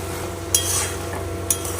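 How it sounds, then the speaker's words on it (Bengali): Cabbage curry being stirred in a frying pan, a steady low sizzle with two sharp utensil clinks against the metal, close and without talk. "এই যে বাঁধাকপির তরকারিটা হচ্ছে"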